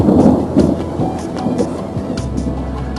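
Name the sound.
thunder during storm on tower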